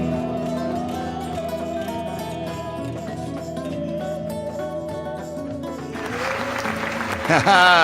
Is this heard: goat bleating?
no